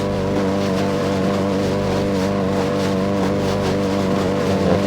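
A steady engine drone holds a constant pitch throughout, a continuous vehicle hum with no speech, from a car accelerating in the video game Pursuit Force.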